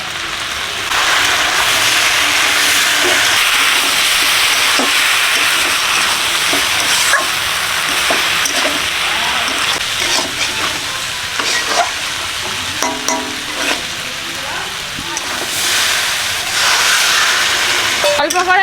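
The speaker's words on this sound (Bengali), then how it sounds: "জল দিলাম মশলাটাকে কষবো বলে" Ground spices and onion-ginger-garlic paste fry with fried potatoes and cauliflower in oil in a pan. A loud, continuous sizzle runs throughout, and the spoon scrapes and stirs through it now and then.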